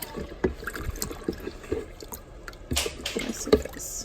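Tea mix being stirred into warm water for peppermint cucumber iced tea, with soft liquid swishes, light drips and small clinks in an irregular rhythm, close by and fairly quiet.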